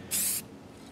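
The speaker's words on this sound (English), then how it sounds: "When I'm spraying armies, I usually do the rattle can" Spray primer from a rattle can, used for priming miniature army figures: one short, sharp hiss of an aerosol burst, close and bright, then quiet.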